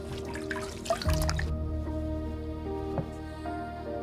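Water drips and trickles into a basin during a foot washing, a few sharp splashes up front and then scattered soft drops over a quiet, resonant background.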